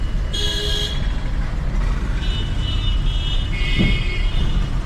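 A car creeps slowly out of a congested narrow lane amid steady low traffic rumble, with short horn toots sounding nearby and other vehicles idling around it.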